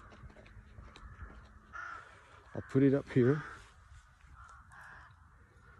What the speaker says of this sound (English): You can see the crows on the beach.